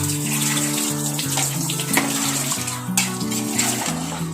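Chicken-boiled stock is poured into a pot of mutton biryani, making a continuous close splashing and gurgling pour with no talk.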